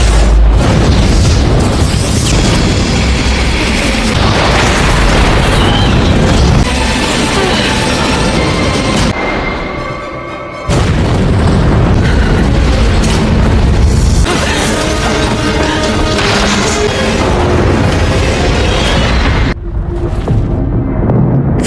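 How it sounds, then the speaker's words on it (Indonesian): A time bomb explodes and wipes out a site in the Alien vs Predator film, heard as sustained loud booming blasts and rumbling debris, with a brief dip near the middle before the roar resumes and cuts off near the end. "Bom waktu sudah meledak dan memusnahkan tempat itu."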